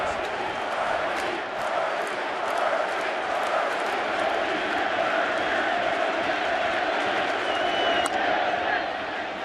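A packed stadium crowd at a 2015 World Series baseball game, Mets at Royals, roars in a sustained, loud, even wall of cheering that holds steady throughout.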